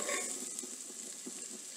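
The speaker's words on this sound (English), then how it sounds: "When the butter is melted, we'll add" Onions sautéing in melted butter over medium heat, giving a soft, even sizzle with faint stirring, heard close and alone for a brief moment.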